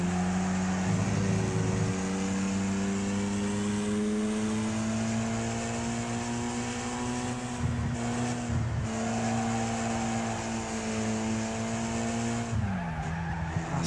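Race cars battle in the Wreckfest video game, with a loud continuous engine whine shifting pitch through gear changes alongside tire skids and squeals, up close and without speech.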